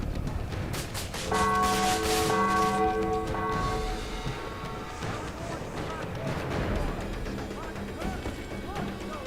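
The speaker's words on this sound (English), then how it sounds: "when you ring the bell, it helps to stun them" A church bell rung in Spider-Man: Web of Shadows to stun enemies, heard as loud tonal clangs ringing out amid heavy game noise, crashes and gunfire-like bursts, with talk over the top.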